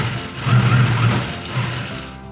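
Sewing machine stitching a ladies' shirt, a steady mechanical whirr with rapid needle clatter, close up and running alone for a couple of seconds.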